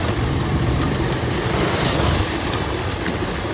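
Motorcycle engine running steadily while riding along a dusty off-road village track, a continuous, fairly loud rumble mixed with wind and road noise, with no speech.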